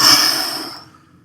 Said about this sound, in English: On the inhale, you're going through your nose.